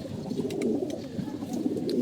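Pigeons cooing in a loft at dusk, soft repeated low coos close by with no talk over them.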